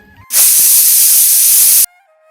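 A pressure cooker whistle in a village kitchen during morning cooking lets out one loud, sustained steamy hiss of about a second and a half that cuts off abruptly.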